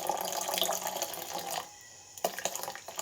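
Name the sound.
water being poured into pomelo juice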